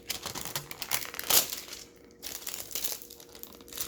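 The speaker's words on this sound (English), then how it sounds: "we're going to open it because she is still in the plastic" Plastic wrap is torn off an oracle card box, with close crinkling and crackling in irregular bursts, one sharp loud rip near the middle, then quieter rustling.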